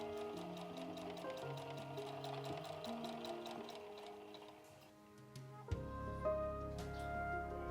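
A home sewing machine stitches fabric pieces for a patchwork bag, its needle tapping in a steady fast rhythm close by with a brief pause and restart near the end, with a soft musical background underneath.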